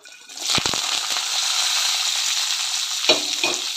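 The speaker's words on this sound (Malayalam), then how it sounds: "പിന്നെ നമ്മൾ കട്ട് ചെയ്ത് വെച്ചിട്ടുള്ള സവോള, അതേപോലെ തന്നെ വറമുളക്, പിന്നെ കറിവേപ്പില, ഈ 3 നമുക്കിതിലോട്ട് ഇട്ട് കൊടുക്കാം" Sliced onion, dried red chilies and curry leaves hitting hot coconut oil, bursting into a loud, steady broadband sizzle with a few sharp crackles and scraping stirs, no voices.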